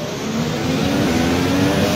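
Haas Formula 1 car at Monza in F1 2016, a loud, close, sustained high-revving engine scream holding steady with no talk.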